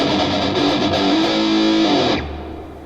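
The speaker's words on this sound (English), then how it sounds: "Little reverb." A distorted electric guitar through a Digitech iPB-10 modeler holds a bending note that stops abruptly, then a reverb tail fades away.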